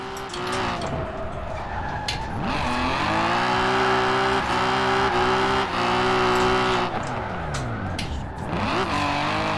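A 1988 BMW M5 in Forza Horizon 4 revs hard and continuously, its engine note climbing and falling through gear changes with tire squeal mixed in, loud and close throughout.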